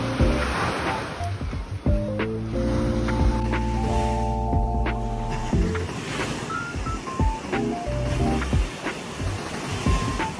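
Gentle waves wash onto a calm, clean beach where surfers are out, with steady surf wash and wind noise; a droning, horn-like tone rises over the water for a few seconds midway.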